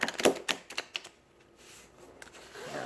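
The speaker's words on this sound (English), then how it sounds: "the wiffle shuffle, like I just did" Quick, crisp riffle shuffles and taps of tarot cards come in a few bursts, then a soft papery rustle trails off near the end.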